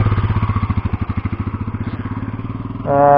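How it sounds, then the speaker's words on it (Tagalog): Two Ducati Scrambler motorcycles, an 800cc and a 400cc, ride alongside on a mountain road, a loud, close, pulsing engine throb that steadily quickens before a higher whine from a rising rev takes over at the end. "So may nakasabay tayo ng dalawang Ducati Scrambler"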